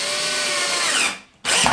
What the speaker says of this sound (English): you're going to go ahead and drill in there